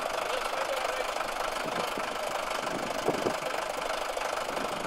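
A tractor engine pulling forward at an outdoor display, a steady loud mid-pitched engine drone with a knocking texture, continuous and close.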